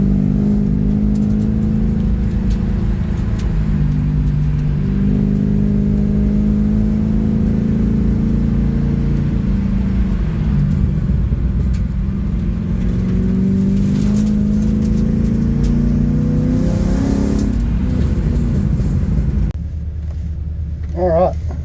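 A Ford BA XR8 car on a hillclimb sighting lap drones steadily up close, its engine rising and falling through the gears with a constant rumble, until the noise drops suddenly near the end.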